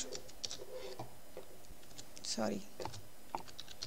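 Code being typed on a computer keyboard for a Python programming lesson, scattered close key clicks and taps in an irregular rhythm, with a voice speaking briefly in between.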